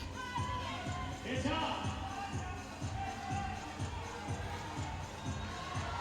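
Spectators at the IFSC Climbing World Championships men's boulder semi-final in Hachioji, 2019, roar and cheer steadily throughout, with a rhythmic run of thumping claps or stomps beneath the dense crowd noise.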